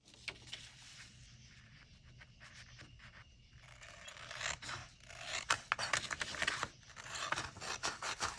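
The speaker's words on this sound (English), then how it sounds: "I've got a pair of scissors here, and I'm going to cut mine that way" Scissors snip and rasp through paper, starting quiet and sparse, then growing into louder, irregular cutting strokes close by.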